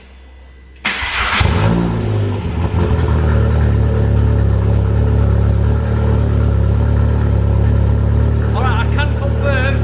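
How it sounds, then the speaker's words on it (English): A Polo GTI track car fires up abruptly, its engine settling into a loud, raspy exhaust drone that stays steady and close, with brief voices near the end. "Is it loud, this exhaust?"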